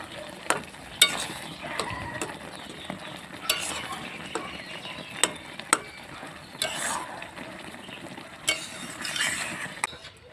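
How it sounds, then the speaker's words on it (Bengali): Spatula scraping and tapping in a pan as tomatoes are mashed and stirred for a chutney, soft sizzle beneath repeated clicks and scrapes, close. "আর খুন্তি দিয়ে টমেটোগুলোকে এইভাবে গালিয়ে দেব।"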